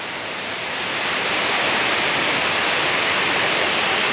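Water pouring over Great Falls at Rock Island State Park, Tennessee, a dense, steady broadband roar that swells in the first second and then holds loud and unbroken.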